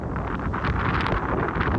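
Strong wind blows at a beach fort on Itamaracá Island in Pernambuco, Brazil, buffeting the microphone with loud, continuous roaring gusts and no voices.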